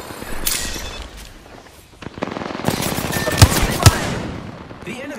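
Enemy gunfire in Apex Legends: scattered distant shots, then a dense burst of close automatic fire with two sharp loud impacts, footsteps and game noises mixed in.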